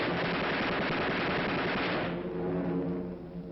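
A WWII US Army Air Forces bomber formation fires its defensive machine guns in a loud, continuous rattling barrage that thins out after about two seconds, with no voices.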